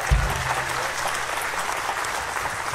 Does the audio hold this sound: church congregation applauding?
yes